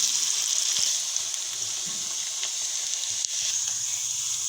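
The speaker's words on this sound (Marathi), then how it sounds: "असा कांदा एकदम पातळ चिरून घ्यायचा आहे आणि तो आपण आता फ्राय करून घेणार आहोत" Thinly sliced onion frying in hot oil for a chicken dum biryani topping, a steady dense sizzle that holds at a fairly even level throughout.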